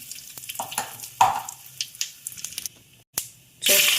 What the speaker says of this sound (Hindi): कढ़ाई में तेल गरम हो गया, डालती हूँ जीरा, राई